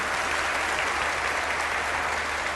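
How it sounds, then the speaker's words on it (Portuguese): Steady, dense audience applause at an evangelical gospel gathering, greeting Peru; a continuous wash of many clapping hands, even in loudness from start to finish, with no voices standing out. "um aplauso especial para Peru"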